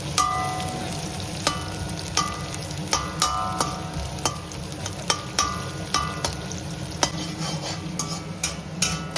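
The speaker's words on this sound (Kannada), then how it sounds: "ಚಟಪಟ ಚಟಪಟ ಅಂದ್ಬೇಕು ಅರ್ಥ. ಅವಾಗ ಎಣ್ಣೆ ಕಾದಿದೆ ಅಂತ ಅರ್ಥ." Hot oil crackling and sizzling in a pan as onions cook for egg rice, a continuous close fry with regular sharp spatula taps against the metal throughout; nobody speaks.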